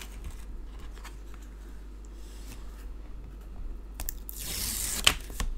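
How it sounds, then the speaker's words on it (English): Backing is peeled off double-sided tape on a papercraft card, a short close tearing rip near the end after quiet handling noise over a low steady hum. "Let's get our double-sided tape removed."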